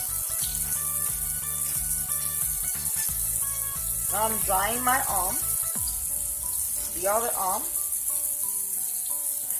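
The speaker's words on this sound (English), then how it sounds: "And I use that same paper to turn off the water." A sink tap keeps running with a steady hiss while hands and arms are dried with paper towels; a person talks over it throughout and faint background music plays.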